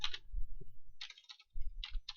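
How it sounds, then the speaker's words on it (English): Bursts of key clicks from a computer keyboard in short clustered runs with brief pauses, fairly close and quiet, no speech. "My typing is atrocious."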